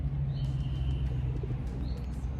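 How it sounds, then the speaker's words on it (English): A parrot, encountered in London, gives short chirping and cooing calls close by over a steady low rumble of background noise, with a couple of brief bright whistles and no talk. "A parrot. I expected a pigeon."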